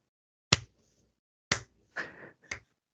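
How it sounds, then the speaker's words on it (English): A few sharp, separate claps ring out slowly and unevenly, about a second apart, in an otherwise quiet room. "The slow clap."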